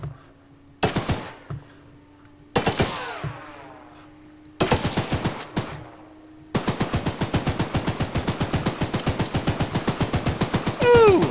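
A mounted gun in Choo-Choo Charles fires loud single bursts at first, then breaks into a long, rapid stream of evenly spaced shots that keeps going to the end.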